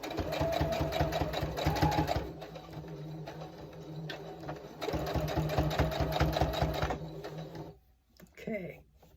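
A sewing machine stitches fabric in close, rapid rhythmic bursts, running for about two seconds, slowing, then running again, before stopping near the end, where a short voice is heard.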